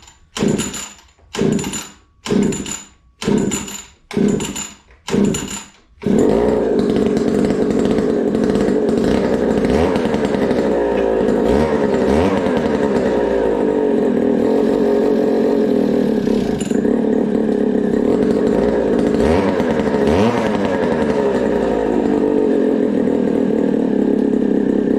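A Goped scooter's small two-stroke engine, pulled six times in a row with rasping recoil yanks, then bursting into a loud, continuous buzzing run that wavers and revs for the rest of the stretch.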